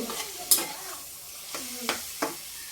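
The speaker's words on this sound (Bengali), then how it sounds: "এখন আমি এই চিংড়ি মাছটা এটাতে দিয়ে দিলাম, দিয়ে নেড়ে চেড়ে মিশিয়ে নেব।" Shrimp being stirred in a pan, with a few separate scrapes and knocks of a utensil over a faint background sizzle.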